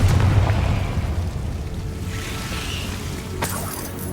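Confringo explosive spell in Hogwarts Legacy, a loud booming blast at the start that rumbles and fades, followed by a sharp crack and softer magical shimmer.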